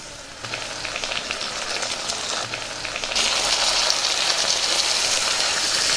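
Potato pieces dropped into a pan of frying onions, with a steady sizzle that jumps louder partway through as the potatoes hit the hot oil, close and continuous.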